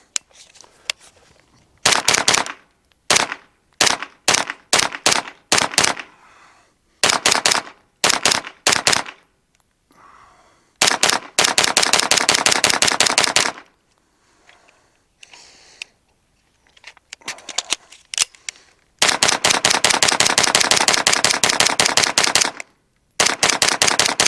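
A Springfield Kuna pistol fires loud, rapid strings of shots outdoors, some as short bursts and some as long sustained runs, with brief silences between strings. No one speaks.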